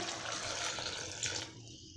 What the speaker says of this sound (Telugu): తగినంత వాటర్ వేసుకోవాలి